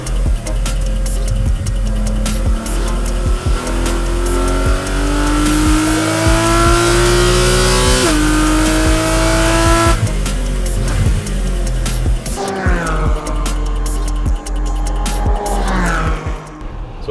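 A race car driving laps on a wet track, its engine loud and close, climbing through gears in repeated rising revs with shifts, accompanied by constant road and spray noise.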